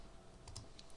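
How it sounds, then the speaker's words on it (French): A single Enter key struck on a computer keyboard, a couple of soft, close clicks against a quiet room hiss. "Je valide par une entrée au clavier"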